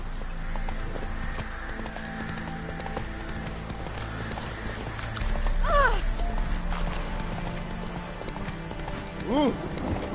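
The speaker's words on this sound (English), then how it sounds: "Whoa there, Roach." Horse hooves clip-clop in The Witcher 3 as a mount walks along, steady and moderately close over a low game ambience, with brief vocal sounds near the middle and end.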